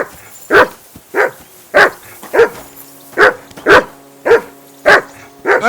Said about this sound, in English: Be quiet, you flea-bitten hound.